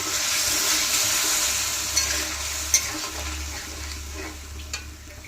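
Water goes into a pan of sizzling fried masala for a duck egg curry, giving a loud, even hiss that eases slightly over time, with a low rumble underneath and a few soft knocks.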